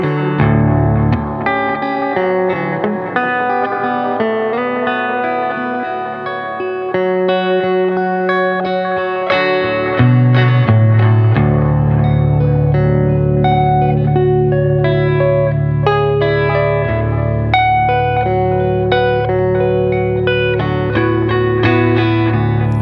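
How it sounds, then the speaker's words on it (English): An electric guitar played through an effects pedal set to a blend of delay and reverb, with sustained notes and chords trailing into echoing repeats and a spacious wash, loud and continuous with no talking. "you got sort of a mixture of delay and reverb"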